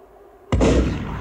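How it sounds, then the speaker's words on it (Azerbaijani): Rifle fired into the air, a single sharp, loud boom that bursts in suddenly after a quiet moment and then decays into a rolling echo. "Birdən xanımın əri tüfəngini əlinə alıb"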